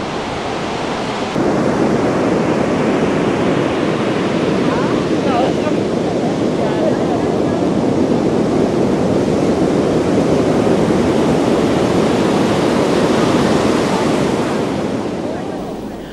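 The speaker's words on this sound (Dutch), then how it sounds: "Wat heerlijk, die golfslag." Waves break and wash steadily on an Indian Ocean beach, a loud continuous roar of surf mixed with wind buffeting the microphone.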